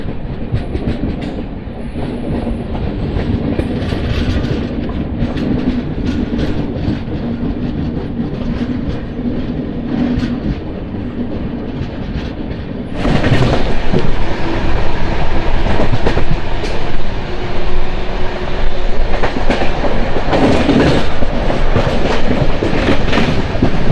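Simhapuri Express, train 12710 from Secunderabad to Gudur, rolls through a loop line, its loud continuous rumble and clattering wheels growing heavier about halfway through, with no voices.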